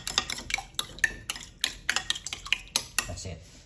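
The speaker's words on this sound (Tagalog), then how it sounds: "And then just mix." A spoon mixing a sardine dish, giving a quick, irregular run of close, bright clinks and taps against the bowl with soft scraping between them.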